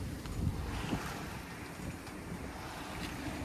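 Steady wind rushing over open water with soft surf and sailboat hull splash on flat water, a constant broadband roar buffeting the microphone throughout.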